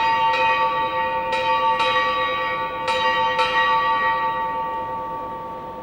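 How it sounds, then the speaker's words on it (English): Ship's bell struck eight times at the end of a watch in a ceremony, ringing strikes in pairs with a long sustained metallic ring that decays slowly, loud and clear with no talk. "8 bells were sounded."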